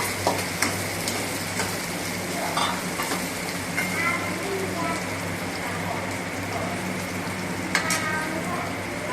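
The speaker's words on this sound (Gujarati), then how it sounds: "બીજા પણ ટામેટાં નાખીને સાતળવા દઈશું." Tomatoes sautéing in a pan for a Gujarati vadhrelo rotlo dish, giving a steady, close sizzle with stirring scrapes throughout and no talk.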